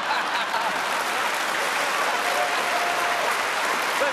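A television game show studio audience applauds steadily, a dense, even wash of clapping from many hands that holds at the same level throughout, with no voices on top.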